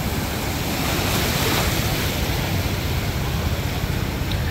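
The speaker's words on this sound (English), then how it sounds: "I'm getting beat up by these waves, y'all." Ocean waves breaking on a beach, a continuous loud wash of surf and churning water with wind buffeting the microphone, heard up close with no talking.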